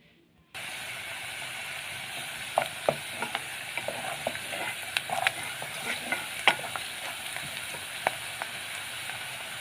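Onion frying in a pan on a gas stove, a moderate steady sizzle after a quiet start, dotted with sharp clicks and scrapes of a utensil against the pan.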